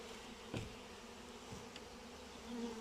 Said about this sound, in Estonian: Ja nüüd raputame need mesilased siit. Raputame siit 200 mesilast siia sisse